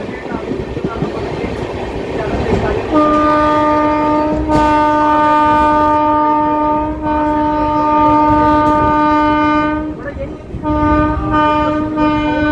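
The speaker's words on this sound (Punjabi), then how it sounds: "ਟ੍ਰੇਨ ਦੀ ਸਪੀਡ ਘਟ ਗਈ ਹੈ" An Intercity Express train rumbles along, slowing down, then sounds a long, sustained horn blast that drones for several seconds before briefly breaking and resuming.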